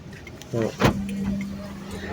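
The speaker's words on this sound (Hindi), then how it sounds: "अब हम चेक करते हैं कि ये लॉक अनलॉक कर रहा है या नहीं कर रहा।" Remote central locking on a Toyota Passo engaging, a quick mechanical clunk of the door locks followed by a short electronic beep tone, heard up close.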